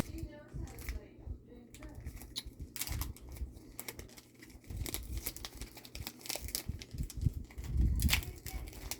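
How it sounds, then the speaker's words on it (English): Foil Pokémon Celebrations card packs are torn open and crinkled up close in irregular rustling bursts, with a few crisp rips and handling noises in between. "Opening up some Celebrations pack, looking for that Charizard"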